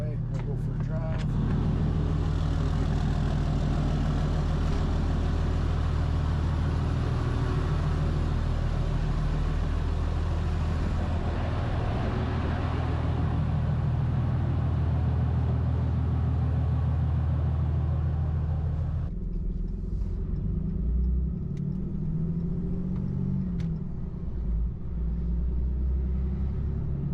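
A Dodge Ram 2500 pickup drives along with a steady, low engine rumble from inside the cab, and the tone shifts partway through as someone talks over it.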